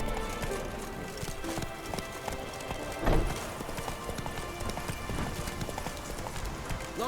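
Rhythmic clip-clop of Roach the horse galloping in The Witcher 3, steady hoofbeats close and continuous, with a brief louder burst midway and faint speech in the background.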